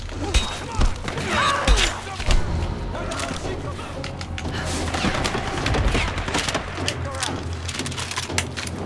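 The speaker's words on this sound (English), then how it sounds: "Incendiary shotgun rounds?" Shotgun fire with incendiary rounds in the game Tomb Raider, several heavy booming blasts in the first seconds followed by crackling, clattering impacts and sustained noisy action.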